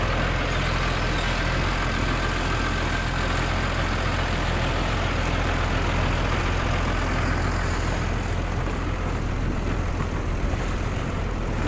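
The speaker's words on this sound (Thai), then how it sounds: "นี่มากับรถไถคันใหญ่เลย" A large farm tractor runs in a village in Buriram province, Thailand, its heavy engine rumbling steadily and loudly throughout with no pauses.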